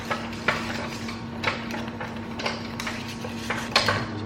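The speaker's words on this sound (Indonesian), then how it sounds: "Jadi ini mulai dia mengental, mendidih, kita aduk terus." Thickening cake custard boiling in a pot while a utensil scrapes and stirs it steadily, with soft rhythmic knocks against the pot about once a second over a low bubbling hiss.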